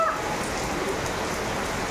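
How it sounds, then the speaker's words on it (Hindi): Heavy rain pours down in a dense, steady hiss of close drops, constant and unbroken with no voices. "इतना ज़्यादा भयानक बारिश आ गया है"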